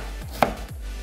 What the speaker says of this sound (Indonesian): Lobaknya ini kita iris tipis-tipis.